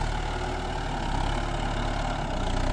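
Kubota M9540 tractor engine idling with a steady low rumble and dense, even harmonic drone, continuous and close for the whole stretch.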